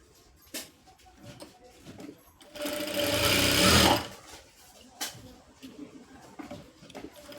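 A sewing machine stitches the hook edge on the back of a blouse, with a loud sustained run of rapid needle strokes in the middle, surrounded by quieter start-stop bursts and handling of the fabric.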